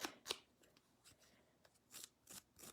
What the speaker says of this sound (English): So I'm just going to take the edge of my scissors